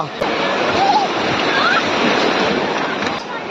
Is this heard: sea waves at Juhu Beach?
yes